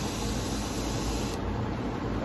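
A steady, soft hiss of a spray bottle misting water onto a plant, continuous and close, with no voices.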